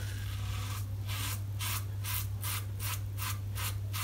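An Elvado Kahuna safety razor shaves a lathered scalp in about nine short, regular scraping strokes, close and crisp over a low steady hum.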